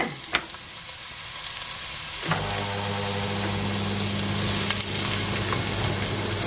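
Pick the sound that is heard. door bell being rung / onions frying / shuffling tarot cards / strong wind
onions frying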